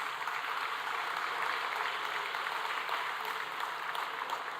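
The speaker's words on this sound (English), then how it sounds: "Let's give a big round of applause to all the prize winners." Steady, dense applause from an audience at a university degree distribution ceremony, honouring prize winners, sustained without pause at moderate volume from a large hall.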